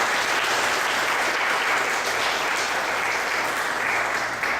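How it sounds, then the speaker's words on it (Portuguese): A church congregation claps together in a sustained round of applause, a dense, steady wash of many hands that holds at a strong level throughout. "Vamos dar uma salva de palmas para Jesus."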